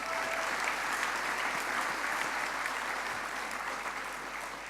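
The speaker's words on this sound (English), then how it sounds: "we might actually have to keep the applause going" An audience at a FameLab Australia science-communication final claps in a dense, even round of applause that fades slightly toward the end.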